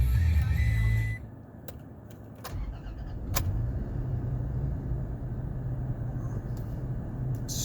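A 2017 Toyota Tacoma TRD Sport truck with a 6-speed manual sits idling, goes quiet amid a few clicks and key jingles, then its engine turns over and settles into a steady, close idle.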